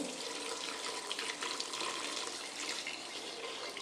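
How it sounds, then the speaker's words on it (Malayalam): Water runs in a steady, soft stream as it is poured into a pressure cooker while making jackfruit halwa, continuous and unbroken with no talking. "ആവശ്യത്തിന് വെള്ളം ഒഴിച്ച് നമ്മളിത് വിസിലടുപ്പിക്കുക"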